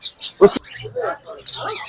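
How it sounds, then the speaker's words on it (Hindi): Caged Parblue parrots at a bird seller's cages give sharp, close chirps and short squawks in quick bursts with brief pauses, loud and clear, with a voice faintly present. "19 नंबर केज में मैंने आपको पहले से तोते पकड़ के दिखा दिया है ताकि आसानी हो जाए जरा।"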